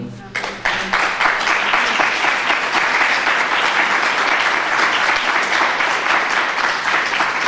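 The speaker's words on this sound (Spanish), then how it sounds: "Y den un aplauso a Cristo." Congregation clapping at a church service, loud and close, a brief voice at the start before dense, continuous applause fills the room and holds steady to the end.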